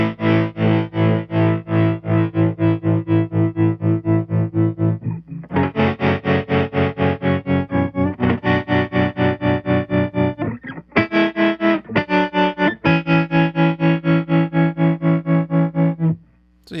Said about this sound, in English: So yeah, normal tremolo